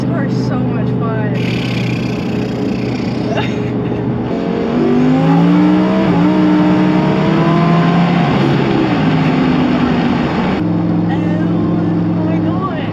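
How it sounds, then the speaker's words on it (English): A Lamborghini engine drones loudly from inside the cabin, revving up and down through gear changes, with sharp pitch drops on downshifts and a steady roar between, while occupants talk over it. "I just love that blow off noise every time I downshift."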